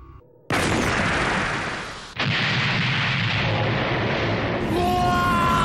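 A weapon fires in a Gundam SEED anime battle scene, a sudden loud roaring blast that sustains, breaks off briefly and surges again, ending with a high electronic whine.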